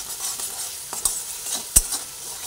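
Spice masala for a teasel gourd curry is stirred and fried in a pan, with a steady sizzle and a few sharp scrapes of the spoon against the pan.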